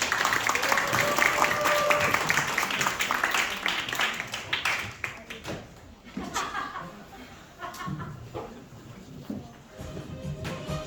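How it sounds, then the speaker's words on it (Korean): An audience at a school festival claps in a lively burst, with scattered chuckles and crowd murmur mixed in; the applause is loud at first, then thins into sporadic claps and chatter as people talk. "큰 박수와 함께 무대 같이 호응해 주시면 감사하겠습니다"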